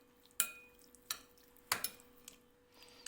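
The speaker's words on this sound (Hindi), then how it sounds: "1 टीस्पून सोया सॉस, और इसको हम अच्छी तरह से मिक्स कर देंगे।" Chicken marinade with cornflour and soy sauce being mixed in a bowl, giving a few separate clinks and scrapes of utensil against dish at a slow irregular pace, close and quiet over a faint steady hum.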